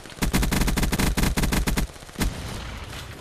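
Call of Duty Black Ops 3 gunfire in a rapid automatic burst of loud, close shots, with a brief pause, then one last single shot fading into a low background rumble.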